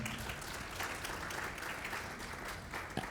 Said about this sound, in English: I'd like to ask you to give these young ladies a big round of applause